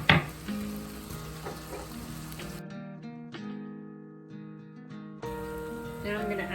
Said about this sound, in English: Once it's nice and hot, I'm going to add my garlic and my tomato.